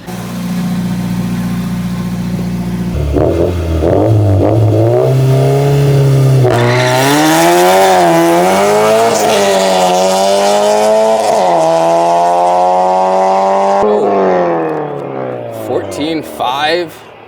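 A Honda Civic engine roars hard through rising gear pulls down a drag strip, pitch climbing, dropping at each shift and climbing again, loud and close, with a voice briefly under it.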